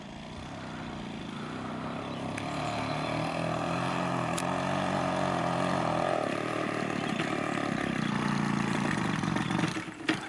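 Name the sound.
electric drift trike running with a broken engine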